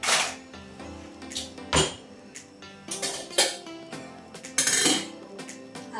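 Steel kitchen vessels and utensils being set out, with a series of irregular metallic clanks, clinks and thuds of pots and cutlery knocking together close by, no voices.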